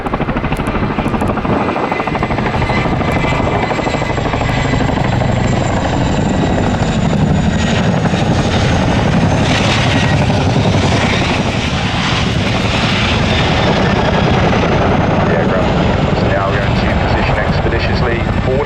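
A Royal Air Force Boeing Chinook HC.6 twin-rotor helicopter, ZH904, displays at the Cosford Air Show 2024, its loud, continuous rotor thrum and turbine roar filling the air without a break.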